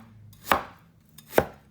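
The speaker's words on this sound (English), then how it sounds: "we'll chop our ginger up" Ginger being chopped with a knife on a cutting board, two sharp separate chops about a second apart, close and clear with no talk.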